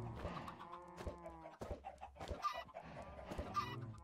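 Chickens in the Minecraft video game cluck in short, close, repeated calls, with a few bursts overlapping in an uneven rhythm and no speech.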